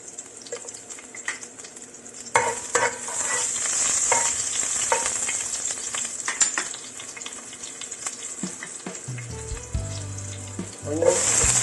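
Garlic frying in olive oil in a pan, a continuous sizzle that builds after a quiet start, with stirring clinks and a brief low hum near the end.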